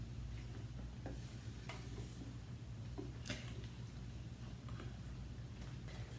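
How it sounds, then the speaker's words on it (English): Sauce boiling in a pot on the stove, a quiet steady bubbling and sizzling simmer with occasional soft stirring clicks and pops, no talking. "Our sauce is boiling, real nice."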